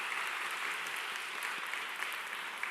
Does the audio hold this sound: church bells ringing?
no